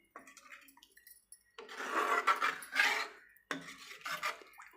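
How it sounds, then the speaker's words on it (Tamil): Water is poured into a pot of coconut milk fish curry in two close, splashy bursts, with quieter clinks and stirring noises before and between them. "நான் கொஞ்சம் தண்ணி ஆட் பண்ணிக்கிறேன்."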